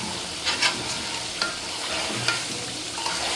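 Food sizzles steadily in hot oil in a home kitchen while a utensil stirs it, with several sharp scraping clinks against the pan standing out over the continuous frying hiss.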